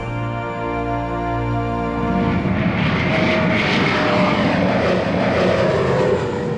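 Engines of a Gulfstream V executive jet, rated at 29,500 pounds of thrust, roar loud and close, starting with a steady tonal whine and swelling into a broad, rushing blast that continues to the end.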